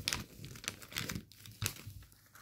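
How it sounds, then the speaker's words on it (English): Paper crinkles and rustles softly up close as the flaps of an origami fighter jet (Phalanx) are folded over. The crisp crackles come in quick clusters, with no speech. "Fold these flaps over"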